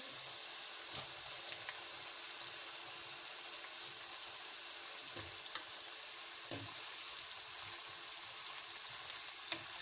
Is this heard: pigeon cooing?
no